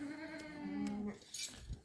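A goat at an animal market bleats once, a wavering drawn-out call close to the mic, followed by brief rustling and handling noise.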